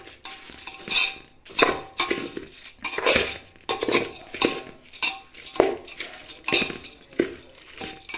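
A spoon stirs rice coated in masala and oil inside a metal pot while making palaw, giving repeated scraping and clinking strokes in a steady rhythm, close and fairly loud with no talking.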